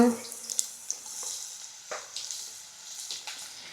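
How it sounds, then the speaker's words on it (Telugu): Chilies roast in hot oil in a pan, giving a steady close sizzle with occasional stirring scrapes and bursts of spattering, with no talking over it. "మిర్చి అయితే చక్కగా రోస్ట్ అయిపోయింది ఆయిల్లో"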